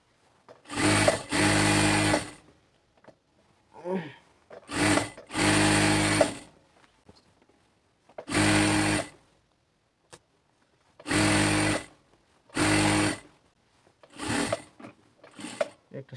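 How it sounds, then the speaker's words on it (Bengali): A sewing machine stitching salwar fabric with elastic runs in about seven bursts of a second or two each, whirring loudly and close, separated by quiet pauses with a faint voice. "আপনারা সেলাই করবেন।"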